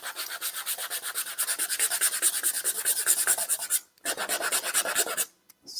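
Steady rhythmic rasping of low-grit sandpaper scrubbing back and forth across lacquered wood, close up, with a brief pause near the end.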